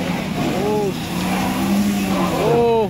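An ambulance bus engine strains as it tries to climb a steep road, with a steady loud droning rumble and rising whining tones under people talking nearby.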